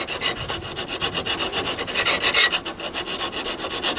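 Grinding a radius onto a brazed carbide boring bar produces a steady, close rasping scrape with a regular pulsing rhythm, continuous throughout and heard alone without speech.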